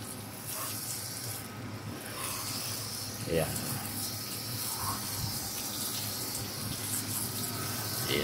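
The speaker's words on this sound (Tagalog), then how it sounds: "pasirita mo ng tubig" Water being sprayed over a motorcycle, reaching the headlight and tight crevices during a wash, a steady, close hiss that runs the whole time with only small shifts in force.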